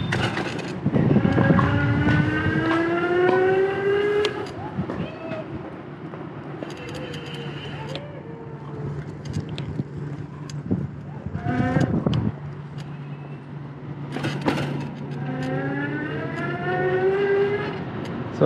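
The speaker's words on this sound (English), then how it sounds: "The motor is pretty noisy, especially for a 450 watt motor, especially if you're going full throttle." A Hiboy ECOM 14 electric commuter scooter with a 450-watt motor whines steadily, its pitch rising and falling as throttle changes, over rumbling road and wind noise with a few knocks.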